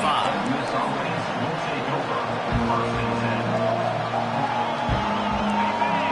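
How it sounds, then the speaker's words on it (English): A stadium crowd roars at a college football game, a dense, sustained wall of cheering and whoops with a broadcast commentator speaking over it throughout. "This crowd bringing an ear-splitting welcome to their visitors."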